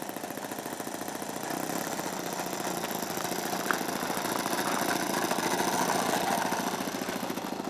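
A large-scale model airplane engine, a Zero replica turning a big propeller, idles steadily at low throttle, a continuous buzzing drone with a slight rise and fall, no talking.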